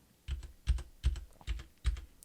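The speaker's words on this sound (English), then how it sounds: "We're pushing some keys." Computer keys pressed on a desk beside an Audio-Technica ATR2100 microphone, five distinct evenly spaced clacks, close and fairly faint, with no talking.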